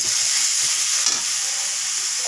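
Grated squash and green chillies stirred in a frying pan, a loud continuous sizzle with scraping stirs, close up and alone without talk.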